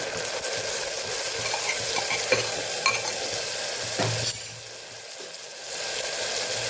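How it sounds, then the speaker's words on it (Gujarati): Tomatoes and garlic chutney go into a hot pan for a Kathiawadi pea and potato curry, raising a loud, continuous close sizzle with stirring scrapes. It briefly quietens before the hiss returns. "તો અહીંયા આપણે પહેલા ટમેટા ઉમેરી દેશું। લસણવાળી ચટણી તૈયાર કરેલી એ પણ અહીંયા ઉમેરી દેવાની છે આપણે।"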